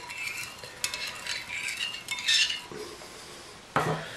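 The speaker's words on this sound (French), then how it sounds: "Bien mélanger, faire fondre le sucre." A utensil stirs warm water and sugar in a bowl, scraping and clinking against the sides in irregular strokes with a few sharper knocks, close and fairly quiet, with no talk.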